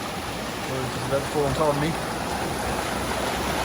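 A creek flows strongly through forest at Mt Field, a steady broad rush of water filling the background while someone speaks briefly over it.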